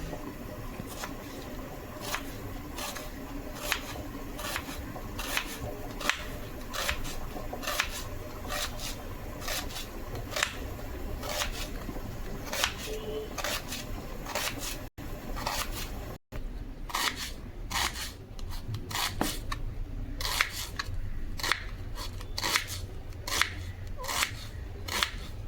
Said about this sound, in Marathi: तर चला कांदे कापून घेऊया।